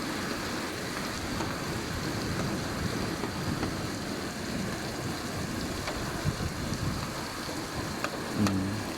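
Floodwater rushes down a street during a storm mixed with ice, a broad, continuous roar of flowing water and rain with a few faint knocks and splashes, steady and fairly distant with no talk.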